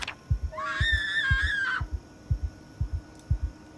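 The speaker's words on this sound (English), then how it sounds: "can you stop screaming?" A sustained high, wavering scream from a person lasts about a second and a half, set over a steady thumping beat of low pulses that repeats throughout, in a tense apocalypse-survival scene.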